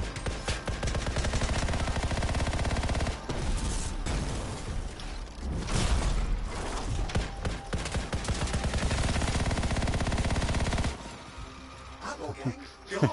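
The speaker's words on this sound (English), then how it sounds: "Shooting a guy point blank with a machine gun." A machine gun in Anthem fires point blank in dense, loud rapid bursts with brief pauses, layered with game effects, until the firing drops away near the end.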